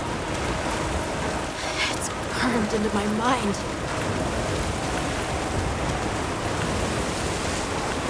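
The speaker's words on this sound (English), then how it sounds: "The rain's really coming down." Steady, dense rainfall hisses throughout, heavy and constant, while a voice speaks briefly in the middle, from the video game Monster Hunter Wilds.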